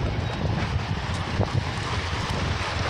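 Wind buffets the microphone at the rocky Lake Michigan shore in a steady, moderate rush. Low gusty rumble sits under faint hiss, with no speech.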